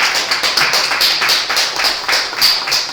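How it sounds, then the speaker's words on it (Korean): A church congregation applauds together, steady rhythmic clapping from many hands close by, continuous for a few seconds with no speech over it. "박수로 축하드립니다"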